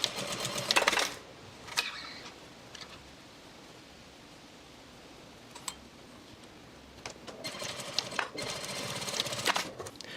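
Sewing machine stitching fabric straps for a pair of pants, with a short burst of rapid stitching at the start, a long quiet stretch broken by faint clicks, then a longer steady run near the end.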